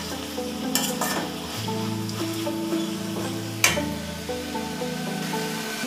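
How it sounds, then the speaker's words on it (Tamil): Vegetables and green peas sautéing in a pan, a steady close sizzle with occasional spoon stirring and scraping clatter. "இது எல்லாத்தையும் சேர்த்து கொஞ்சம் வதக்கிக்கலாம்."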